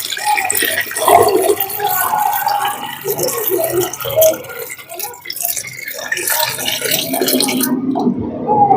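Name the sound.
pouring 10 litres of water into a cooking pot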